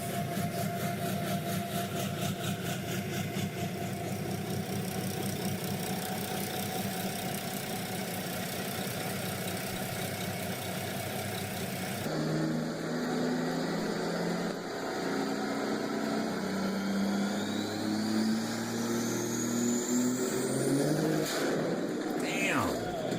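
A car engine running on a dyno at the Let It Roll Dyno Day in Arvada idles with a steady, rough drone, then shifts into a louder, busier run that rises sharply in pitch near the end.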